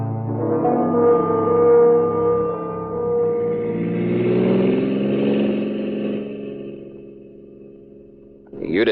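Car engine in a 1950s radio drama, driving to the airport: a steady mid-pitched motor hum that swells and eases as if accelerating, heard alone and close, ending with a short noisy shift.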